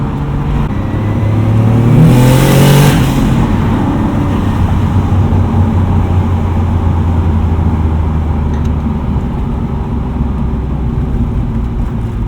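A big-turbo 1995 BMW 325i making 341 wheel horsepower pulls hard under acceleration, its engine drone rising and sweeping up for a few seconds before settling into a steady, loud cruising roar with road noise, heard from inside the car.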